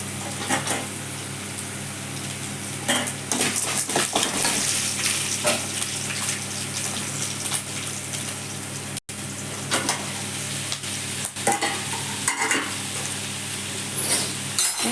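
Carrot poriyal stir-fried in a pan, with a continuous moderate sizzle under frequent spatula scrapes and knocks, a steady low hum beneath, and one brief break partway through.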